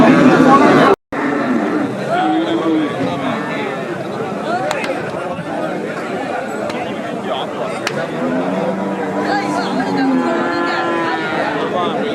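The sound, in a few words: cattle at a livestock market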